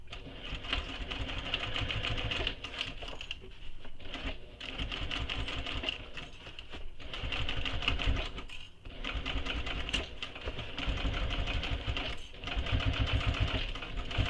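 A sewing machine stitches around the gusset of a bowler bag in steady rapid bursts, pausing briefly between runs and restarting, close and clear with no talk.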